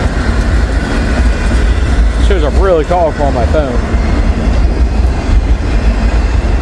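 Loud, steady rumble of a passing CSX freight train on a snowy day, with a voice briefly talking over the rolling wheels and railcars.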